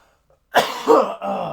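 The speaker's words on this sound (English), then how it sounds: "I got a cough." A single harsh cough bursts out after a moment of silence, followed by a second rougher hack and a short throaty tail, close and loud.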